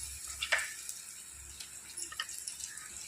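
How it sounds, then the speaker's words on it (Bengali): Onions with ginger-garlic paste frying in a pan for a mutton and taro curry, a soft, steady low sizzle with a few brief clinks and stirring scrapes, fairly quiet and without talk. "এইভাবে হালকা হালকা করে ভেজে নেব"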